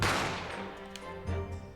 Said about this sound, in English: a gunshot rang in my ears